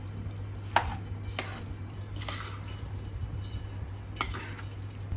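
Cooked dal and jaggery for puran poli mixed in a pot, with a few scattered clinks and soft scraping strokes over a steady low hum.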